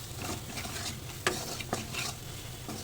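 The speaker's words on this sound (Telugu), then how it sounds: "ఇవన్నీ ఆనియన్స్ బాగా ఫ్రై బాగా కలుపుకోవాలి." Onions fry in oil with salt and coriander powder, giving a soft continuous sizzle while a spoon stirs them, with a couple of brief scraping clicks against the pan; no voices.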